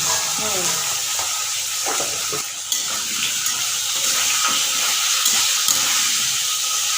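Potatoes fry in a pan with a little turmeric, giving a steady, close, broad sizzle and hiss that runs throughout, with occasional faint voices and small stirring clinks.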